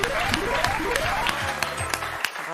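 A studio audience on the French game show Motus applauding: a steady, dense wash of clapping that carries through, mixed with rising and falling tones of a show jingle.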